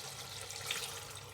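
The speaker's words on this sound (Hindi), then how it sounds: "थोड़ा सा पानी डालूंगी" Water poured into a pan of potato and egg curry makes a steady broadband rush for just over a second, fairly quiet and alone, with no talking.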